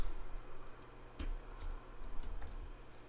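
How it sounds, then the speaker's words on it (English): Keys clack in quick, irregular bursts on a computer keyboard as an administrator username is entered into a login form, faint and close over a steady low background hum, with no one speaking. "just typing in administrator"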